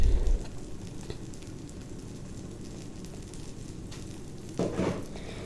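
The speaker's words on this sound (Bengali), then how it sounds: "চুলা আস্তে একবার কমিয়ে আস্তে ধীরে ভাজতে হবে" A roti snack fries slowly in a pan over low heat, giving a soft, steady close sizzle that runs throughout with a brief louder burst near the end.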